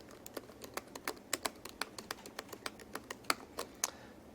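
Typing on a computer keyboard: a steady stream of quiet, crisp key clicks at an even pace, heard close and alone with no speech.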